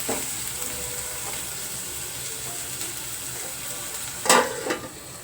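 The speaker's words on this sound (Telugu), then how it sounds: "ఇప్పుడు వేసుకున్న టమాటాలు కూడా బాగా మగ్గే వరకు మూత పెట్టేసి కాసేపు మగ్గనిచ్చేద్దాం" Tomatoes, green chillies, ginger and garlic fry in a covered pan for a raw prawn and drumstick curry, with a steady close sizzle throughout and a couple of brief louder clanks near the end.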